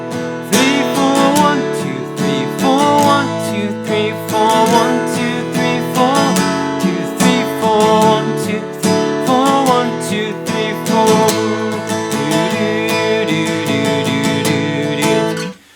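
Acoustic guitar down-strums the chords of a worship song in a simple, steady pattern, loud and close with ringing full chords and no voice.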